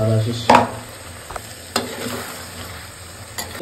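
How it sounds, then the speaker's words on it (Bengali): Fish curry with salt, turmeric, ground coriander and other spices being stirred in a pan, with a few sharp utensil scrapes and knocks over a low sizzle, close and alone. "ভালোভাবে আমি নেড়ে দিলাম মশলাগুলো"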